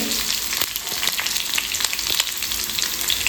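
Small onions fry in a pan of hot oil, giving a dense, continuous hissing sizzle up close with faint stirring scrapes mixed in.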